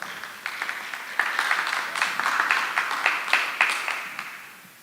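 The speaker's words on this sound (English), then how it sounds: "Let's greet him with a hand of applause." Congregation applause greeting the pastor of a historic church, moderately loud clapping from a sizeable audience with distinct claps, swelling briefly then fading out toward the end.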